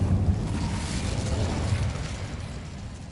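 An Incendio fire spell cast in a video game, a steady loud whooshing roar of flames that holds for a few seconds and tapers slightly toward the end.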